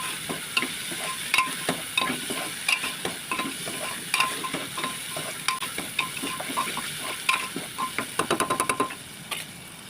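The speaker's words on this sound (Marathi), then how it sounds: "आता कांदा छानपैकी तेलामध्ये परतून घेतलेला आहे" Onion sautés in oil in a pan, a constant sizzle under a brisk run of scraping, knocking stirs that speed into a quick burst of taps toward the end, with no talking.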